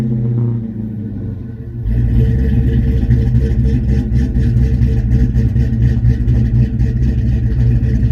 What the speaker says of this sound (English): because I know everybody wants to hear the exhaust